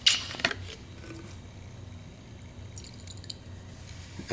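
pH down solution dripping into hydroponic water, a few brief drips and splashes at the start and one more at the end, with quiet room tone between.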